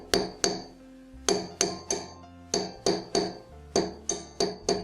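Hammer strikes flatten the rounded part of a jewelry wire ear wire to harden it, landing as sharp metallic taps in quick pairs and short runs with brief pauses between, close and clear with no talking.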